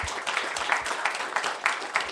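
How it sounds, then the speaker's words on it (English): Rhythmic group clapping in unison at a banking conference panel in Central Asia, distinct claps at a steady beat with some voices underneath. "Let's clap together."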